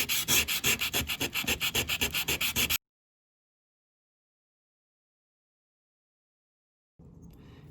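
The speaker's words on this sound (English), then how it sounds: "Now I'm going to go in with my 320 grit sandpaper." Wood rubbed by hand with 320 grit sandpaper, a steady run of rapid back-and-forth scratchy strokes for a few seconds, close and clear, then silence and faint room noise.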